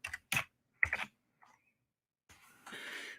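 Computer keyboard typing comes in two short bursts of close, crisp keystrokes with quiet gaps between, followed by a faint rustle and soft continuous noise.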